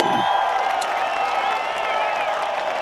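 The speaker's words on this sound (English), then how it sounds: "Let's give her a big round of applause for Kelly Murphy." Studio audience applause and cheering for a game show contestant, a continuous wash of clapping with a few whoops, steady and moderately loud throughout.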